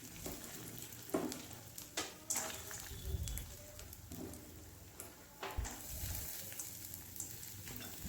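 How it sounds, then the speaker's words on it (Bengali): Chana dal frying in mustard oil while being stirred, a faint, steady crackle broken by soft scraping stirs, with no voices. "ছোলার ডালগুলোকে এবার একটু নাড়াচাড়া করে হালকা লালচে করে ভেজে নিচ্ছি"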